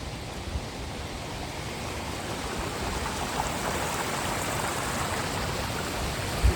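Water rushes and streams steadily along a trail on the trek to Kalu waterfall after rain, a broad, continuous hiss close by with no speech.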